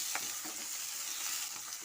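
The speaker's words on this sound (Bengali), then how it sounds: "এবার এর মধ্যে দিয়ে দিচ্ছি একটা মিডিয়াম সাইজের কুচনো টমেটো আর দিয়ে দিচ্ছি একটা কুচনো কাঁচা লঙ্কা" Chopped tomato and green chili being stirred as they fry in a pan, a steady close sizzle with faint scraping strokes throughout, no voices.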